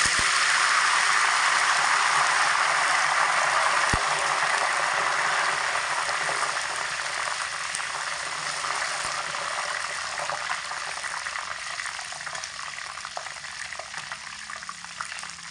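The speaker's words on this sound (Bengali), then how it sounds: "এরকম অনবরত নাড়াচাড়া করে কারি পাতাগুলোকে একটু ভাজা ভাজা করে নিতে হবে" Curry leaves sizzle and crackle in hot oil with a steady frying hiss as they are stirred continuously, occasional small pops and scrapes, gradually easing in intensity.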